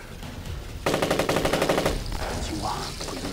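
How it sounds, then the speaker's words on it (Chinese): Rapid enemy gunfire in a war drama about Japanese troops, including a night raid with tanks: a loud burst of about a dozen evenly spaced shots that breaks in suddenly, then a rumbling, noisy tail. "你听鬼子的枪声"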